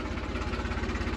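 A 1991 Eicher tractor engine runs steadily in 4x4 with a medium gear engaged, a loud, close, even diesel throb with a continuous low rumble and no talk over it.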